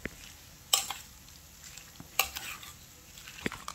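Chopped onions with salt stirred in a frying pan, a quiet continuous sizzle with three sharp utensil scrapes and taps against the pan spaced a second or so apart.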